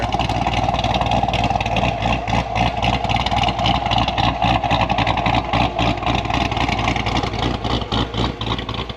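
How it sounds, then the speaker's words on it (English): Deep, rumbling exhaust of a C6 Corvette with a new, quieter exhaust idling steadily up close, a throbbing engine burble with slight fluctuations throughout. "this is the new exhaust since then. So we're actually quite a bit quieter."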